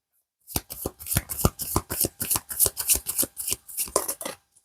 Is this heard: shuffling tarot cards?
yes